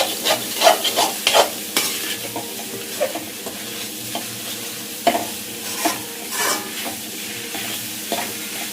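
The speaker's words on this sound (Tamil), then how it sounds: "நம்ம கடையில் வறுக்கிற மாதிரி வறுக்கலாம்." Chicken fried rice being stir-fried in a pan, with repeated scraping and tossing strokes of a spatula over a steady background sizzle, close and fairly loud with no voices.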